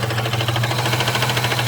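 Holden VX Commodore V6 running with a rhythmic mechanical knock, a loud close rapid tapping over a steady engine drone, heard alone.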